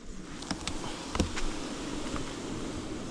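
Honey bees buzz around a hive being checked for honey supers, a faint, close drone with a few louder passes and soft knocks over quiet background.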